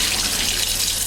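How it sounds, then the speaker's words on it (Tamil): Water pours steadily into a bowl of dried fish, a close, loud, continuous splashing rush lasting about a second. "இதில் வந்து தண்ணி ஊற்றி அப்படியே வச்சுருவேன்."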